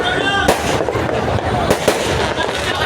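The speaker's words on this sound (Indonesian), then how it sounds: "Kalau kembang api kecil-kecil ini kan ya cuma seperti teman-teman lihat saat ini." Small fireworks pop and crackle at a New Year celebration, with a dense continuous sputter broken by a few sharper bursts, fairly close and loud.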